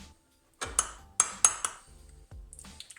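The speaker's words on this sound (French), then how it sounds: "on met au fond de chaque pot une bonne petite cuillère de confiture d'abricot" A spoon clinks sharply against small glass yoghurt pots while apricot jam is spooned in, several bright taps in an uneven rhythm with softer scraping between, close by and without talk.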